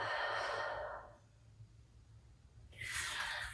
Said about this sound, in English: Nice deep inhale. And exhale.